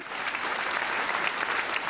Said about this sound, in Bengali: তিনজনের জন্য আরেকবার জোরে হাততালি।